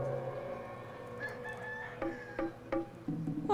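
A rooster crows in a cockfight scene from a Bolivian film, the call rising and held over a low hum, then clipped clucks and scuffling sounds follow at moderate loudness with no talk.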